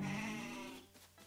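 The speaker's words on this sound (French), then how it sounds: "Ils font des bruits bizarres, les moutons." A sheep in the golf video game Mario Golf: Super Rush lets out a single drawn-out, nasal bleat that fades away; quiet and close, with no talk over it.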